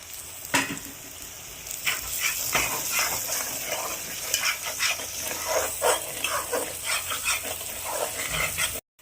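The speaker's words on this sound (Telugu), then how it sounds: "బాగా ఫ్రై అయిపోయిన తర్వాత ఇప్పుడు మనము దాంట్లోకి టమాటా వేసుకోవాలి." Tomatoes frying in masala for a Telugu fish curry (chepala pulusu), a steady close sizzle with scattered crackles and spoon scrapes, no talk.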